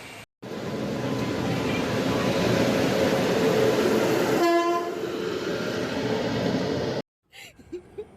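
A train at a railway station passes close and loud with a rushing rumble, and a sustained horn blast sounds partway through before the noise cuts off abruptly.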